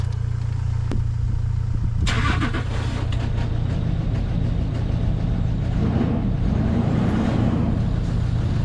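Range Rover engine cranks with a sharp click, then catches at about two seconds and settles into a steady idle, loud and close, with no talk.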